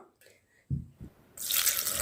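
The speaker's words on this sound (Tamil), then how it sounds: "இப்போ நம்ம கொஞ்சமாக தண்ணி சேர்த்துக்கலாம்." Water is poured into a grinder jar of chopped ingredients for a tomato plant fertilizer. Two soft knocks come first, then a steady, close splashing pour that runs to the end.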